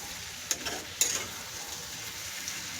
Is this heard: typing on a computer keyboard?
no